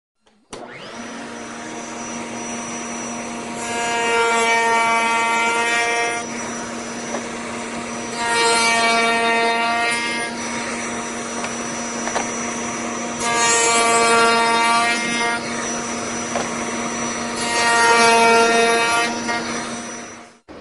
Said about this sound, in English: So we'll turn our router on here and make our 2 cope cuts.